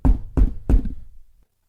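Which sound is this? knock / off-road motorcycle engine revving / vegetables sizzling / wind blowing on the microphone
knock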